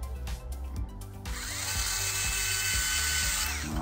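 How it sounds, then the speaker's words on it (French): A power driver whirs steadily as it drives a screw while fitting the coupler on a Tamiya Grand Hauler model truck. A short burst comes first, then one continuous run of about two seconds, close and fairly loud. "On va visser aussi."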